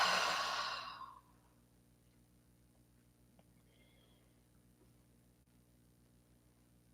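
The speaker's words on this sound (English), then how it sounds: "Let's inhale through the nose. Exhale through the mouth." A single breath, drawn in through the nose and let out through the mouth, audible for about a second as a soft breathy rush and then fading to near silence.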